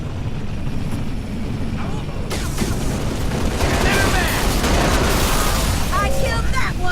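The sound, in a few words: gunfire in a firefight, from video game Halo Reach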